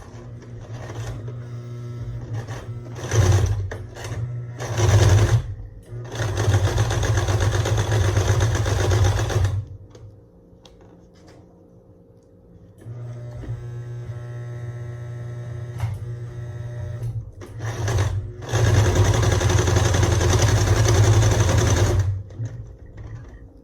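A sewing machine stitches the seam of a fabric face mask in several runs of steady whirring, separated by short pauses and a quieter hum between runs.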